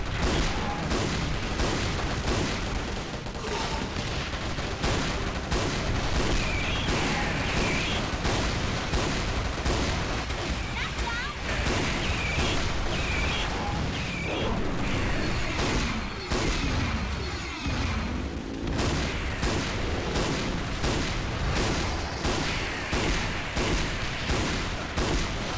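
Shotgun gunfire from the mobile shooter game Chiến Dịch Huyền Thoại, a new Nỏ Bạc XS shotgun firing, with rapid booming shots packed densely throughout, loud and continuous amid a chaotic battle soundscape.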